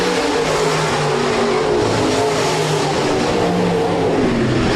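B-Modified dirt-track race cars roar around Rapid Speedway in a loud, continuous pack, engines droning and shifting pitch as they charge off the turn toward the white flag.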